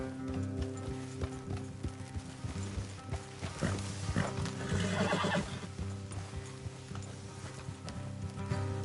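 A horse whinnies loudly over steady clip-clopping hooves, with a second neigh following, in an outdoor scene in the video game Red Dead Redemption 2.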